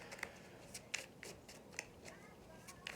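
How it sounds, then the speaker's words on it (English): Tarot cards being shuffled by hand, producing faint, quick papery riffles and snaps in irregular bursts. "How long can you watch me shuffle there before I..."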